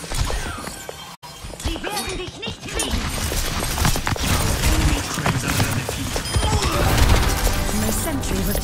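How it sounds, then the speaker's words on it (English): A sentry turret belonging to Symmetra gets destroyed in an Overwatch 2 match: a sharp shattering crash amid dense, loud gunfire, explosions and clattering effects, with voices speaking over the chaotic battle. "My sentry was destroyed."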